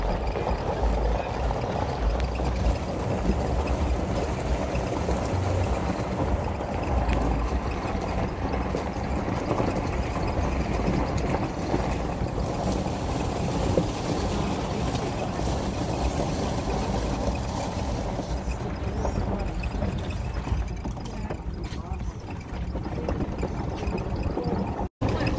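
A boat's engine on Gatun Lake in Panama drones at a steady, moderately loud level throughout, with water and wind noise mixed in and no clear speech.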